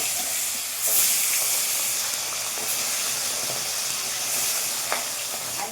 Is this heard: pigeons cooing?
no